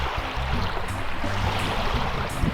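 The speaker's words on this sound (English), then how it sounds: "The boats are kicking out waves." Choppy water from passing boats' wake laps and splashes close by around a small homemade boat, a continuous uneven sloshing with low rumble, no voices.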